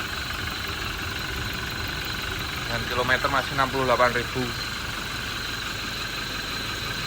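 A 2021 Toyota Innova Reborn V automatic diesel idles with a steady, even rumble, heard near the timing chain area above the fan. Someone talks briefly over the engine partway through.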